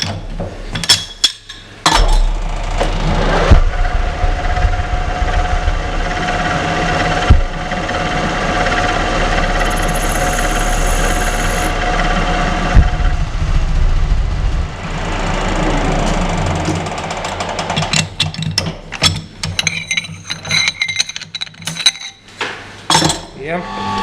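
A metal lathe taking a light cut off a steel bolt for a tripod head adapter: a steady motor hum with continuous cutting noise, then sharper metallic clinks and handling rattles near the end.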